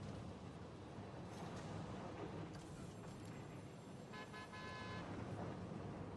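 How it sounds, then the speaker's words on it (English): A car horn toots in the Planet Coaster video game, a couple of faint tonal honks in the middle of the clip over a soft wash of background ambience. "every time a car comes around here, this honks"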